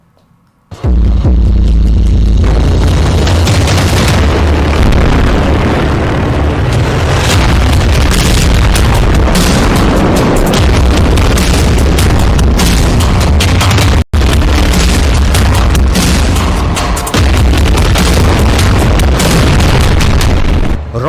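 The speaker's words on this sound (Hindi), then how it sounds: "अब रफा में 2-2 हजार किलो के बम गिराए जा रहे हैं" Heavy explosions from 2000 kg bombs dropped on Rafah erupt suddenly after a quiet moment, then roll on as a loud, sustained, crackling roar of booms and bursts, cut by one brief silent gap.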